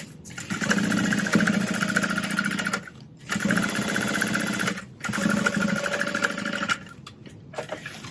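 A sewing machine runs steadily in three long bursts with brief pauses between, stitching crossbody bag fabric right sides together; a close, even mechanical hum and rapid needle chatter, no talking.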